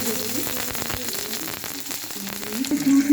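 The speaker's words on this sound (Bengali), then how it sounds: "পেঁয়াজটা ভাজা হয়ে গেছে" Onions sizzle and crackle in hot mustard oil, a steady close frying hiss with a few stirring knocks, rising louder toward the end.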